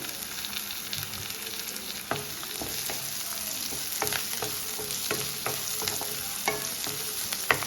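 Crushed garlic and onion frying in a pan for palak dal, a steady close sizzle with frequent sharp crackles and the scrape of stirring, no voices.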